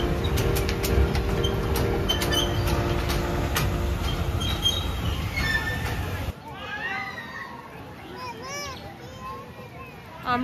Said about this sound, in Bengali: ওইদিকে এখন ট্রেন আসছে।